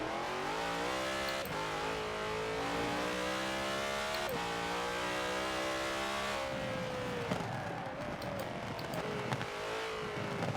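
Zenvo TSR-S in Forza Horizon 4 revving hard through rising gears, loud engine climbing in pitch with sharp shift breaks, then a rougher roar with tire noise toward the end, no voices.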